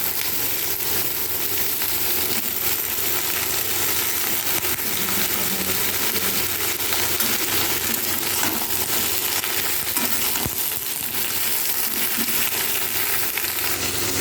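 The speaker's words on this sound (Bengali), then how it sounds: "এর মধ্যে আলু পটলগুলো একে একে দিয়ে দেবো আর একটু লাল লাল করে ভেজে নেব।" Potato and pointed gourd pieces fry in hot oil for a potato, pointed gourd and rui fish curry, giving a steady dense sizzle and crackle close up throughout, with no talk.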